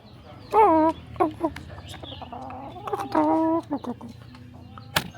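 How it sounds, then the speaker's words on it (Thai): Tame chickens on a farm near Doi Suthep in Chiang Mai cluck and cackle close by in short, pitched calls, with a few louder drawn-out squawks and quiet background noise between them. "ไก่ที่นี่เชื่องเนาะ"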